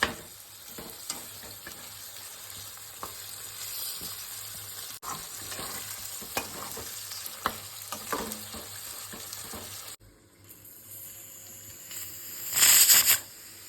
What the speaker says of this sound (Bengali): মাংসটা দিয়ে ভালো করে কষিয়ে নিতে হবে